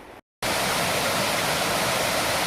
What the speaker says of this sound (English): Largest creek crossing so far.